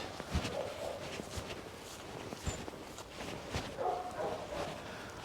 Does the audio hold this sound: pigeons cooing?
no